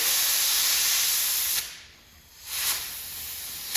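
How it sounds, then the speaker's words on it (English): Close, steady hiss of compressed air blowing from a nozzle onto a Toro CCR snowblower under repair, briefly cut off, then a short burst and continued spraying. "if you have a air hose with a nozzle on it, go ahead and spray it out like this"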